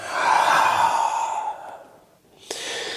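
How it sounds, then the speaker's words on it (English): Someone takes one big inhale through the nose and then blows a long exhale out through the mouth, close and breathy, followed by a brief sharp click and a fresh airy breath. "Take a nice big inhale through your nose, exhale out your mouth."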